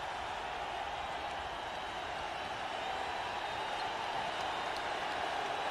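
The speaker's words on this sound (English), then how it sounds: "Listen to this crowd." Crowd at a 1995 Magic versus Celtics NBA playoff game in the Boston Garden roars steadily, a dense and continuous cheer with no break across the whole stretch.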